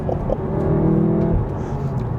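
VW Golf R with its engine warmed up, accelerating hard: a steady, loud engine drone that rises in pitch for about a second before easing off, with no talking.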